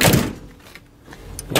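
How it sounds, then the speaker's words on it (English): Ford Econoline Chateau van door being shut, with a sliding rush at the start and a firm closing thud near the end, heard close by with no talking. "I'll just shut that door so we can have a proper look at it outside."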